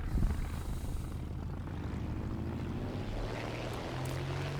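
Heavy droning engine of a fairly large WWII plane in a flight video game, a steady loud rumble with a rising tonal whine, no talk.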